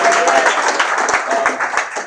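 An audience at a hip hop event applauds with dense, steady clapping throughout, a loud crowd close around and a few voices mixed in.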